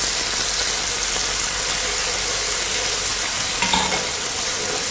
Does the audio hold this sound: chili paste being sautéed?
yes